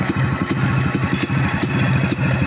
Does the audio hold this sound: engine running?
yes